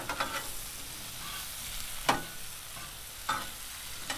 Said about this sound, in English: we're going to add some more of that butter over here on the mushrooms, and we're going to mix these up.